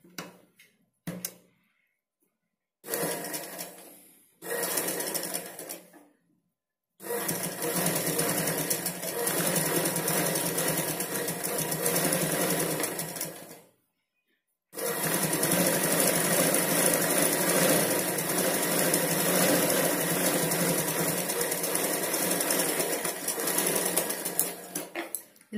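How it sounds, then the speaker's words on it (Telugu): A sewing machine stitches blouse fabric in several runs. Short bursts come first, then long steady stretches of fast, even whirring and clatter close up, broken by brief pauses. "ఇలా ఫోల్డ్ చేసి పైన ఒక స్టిచ్ చేయాలి."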